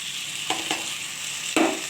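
Poppy seed paste goes into chicken frying in a pan for a poppy seed chicken kosha, giving a steady sizzle broken by three sharp spatula knocks and stirs near the end.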